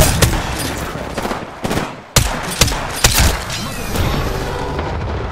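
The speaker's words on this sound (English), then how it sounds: "Being shot at." Gunfire in a shooter video game: loud sharp shots and bursts crack out in quick irregular succession, with booming hits over a steady background din.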